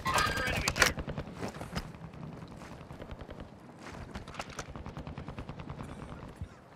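Rapid bursts of gunfire in Call of Duty: Modern Warfare II, a dense run of sharp repeated shots with a louder cluster at the start, continuing steadily at moderate distance.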